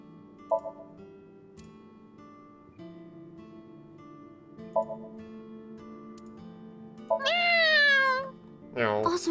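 A voice imitates a cat's meow in the video game AI: The Somnium Files – Nirvana Initiative, one drawn-out, rising and falling meow near the end that stands out loud over soft game music, followed by a sharp sound.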